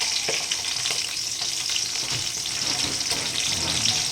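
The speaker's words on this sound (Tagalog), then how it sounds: "Hirap pala mag-prito ng tapa." Tapa, cured beef, frying in a pan over the heat, giving a steady loud sizzle with crackling spatters and occasional stirring, close and continuous.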